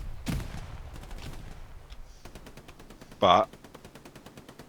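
Rapid machine gun fire in a squad-based multiplayer shooter game, 18 vs 18 match, with regular bursts and a few louder shots, while a commentator talks over the gunfire.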